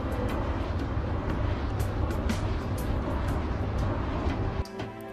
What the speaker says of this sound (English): This is what a wind turbine sounds like up close